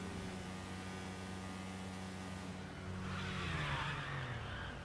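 Go-kart tires skidding while drifting in GTA Online on Cayo Perico: a steady buzzing small engine runs throughout, then a hissing tire skid rises in the last seconds as the pitch of the motor sags, all fairly faint.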